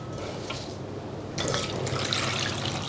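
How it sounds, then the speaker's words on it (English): Cold water runs from a tap into a saucepan of carrots in a home kitchen. A soft trickle at first swells into a fuller, louder pour, with no talking. "barely cover them with cold water and place them on the stove"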